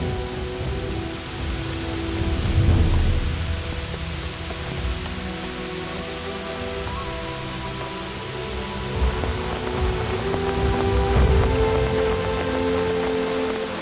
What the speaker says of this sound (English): to create a cover area to protect us from the heavy rain.